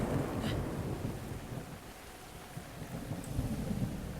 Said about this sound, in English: You know, there's that lightning again.